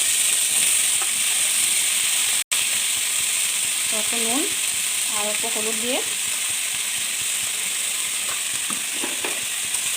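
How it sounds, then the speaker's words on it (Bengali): Ridge gourd and potato pieces frying in oil left from frying fish, a loud close continuous sizzle and crackle with stirring, while someone speaks briefly over it. "ওই মাছ ভাজার তেলেতেই ঝিঙ্গে আলুগুলো অল্প ভাজা করে নেব।"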